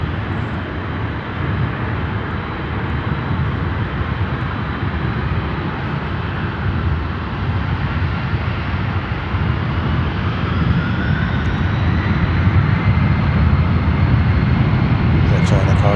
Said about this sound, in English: Yeah, China cargo takeoff.